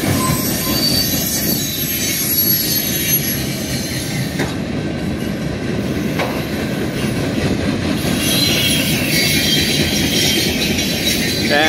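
Freight train led by Ferromex locomotives rolling past at Church Ave in Calwa, California, with steady heavy wheel rumble, clacking over rail joints and shrill wheel squeals rising above the noise, close and loud throughout.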